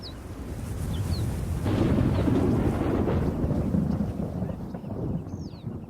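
Thunder from a storm in the African wild rumbles low and heavy for several seconds, swelling and fading, with a faint bird call near the end.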